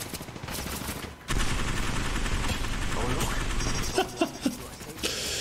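Gunfire in the mobile video game Apex Legends Mobile, rapid bursts of automatic shots that run almost continuously, with a few sharper cracks toward the end and voices over it.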